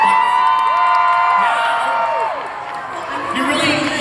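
A convention panel audience at LVL UP EXPO claps, whoops and cheers in a loud, sustained roar of the crowd, with shrill individual shouts rising above it.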